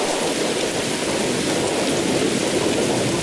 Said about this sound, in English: And the rain got loud.